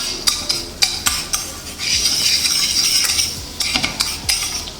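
Chopped garlic sautés in oil in a hot pan, a soft sizzle under sharp, repeated clicks of a utensil stirring against the metal.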